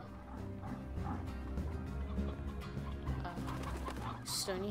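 Stony hens cluck in the Slime Rancher video game over a dense, steady bed of game music and ambience. Short bird-like calls repeat throughout, and a brighter chirp rises near the end.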